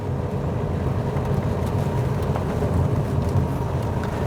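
Classic Jaguar 3.4 S-Type saloon driving through a village, a steady low engine and road rumble heard from inside the car, continuous and moderately loud with no talk.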